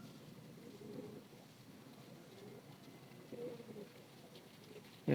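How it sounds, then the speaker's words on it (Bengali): Jalali wild pigeons, a male among them, coo in low soft repeated murmurs, fairly faint against light outdoor background noise. "এটা হলো নর কবুতার"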